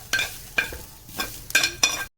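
Grated carrot and vegetables stirred in a frying pan, a soft steady sizzle broken by about five sharp scraping stirs of a spoon across the pan, close and fairly quiet, no talk.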